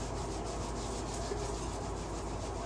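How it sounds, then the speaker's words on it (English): Hands rub steadily along a forearm, up over the elbow toward the upper arm, making a soft, continuous, close-up skin-on-skin swish at low volume with no pauses or talk. "just rubbing the forearm up through the elbow and elbow joint, up through the bicep and tricep"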